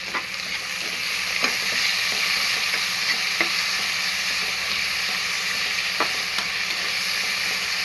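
Peas rice stirred and frying in a pan with salt, a steady close sizzle throughout with scattered scraping stirs of the spoon.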